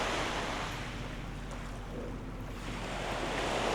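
Steady, broad wash of surf rolling onto a sandy beach, constant and fairly loud with wind rumbling against the microphone and no talking.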